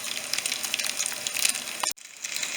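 Ramen patties frying in hot oil, a steady loud crackling sizzle with dense spattering, briefly cut off near the end before resuming.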